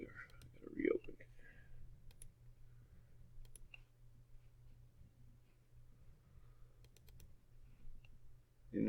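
A handful of faint computer mouse clicks scattered over a low hum, close and quiet, with some soft muttering at the start.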